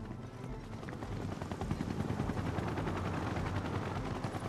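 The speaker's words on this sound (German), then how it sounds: "Ja, war ein sehr ulkiger Hubschrauber." Rapid rotor chop of a helicopter in the video game Final Fantasy VII Rebirth, a dense, steady rhythmic thudding that holds at a moderate level throughout, with no talk over it.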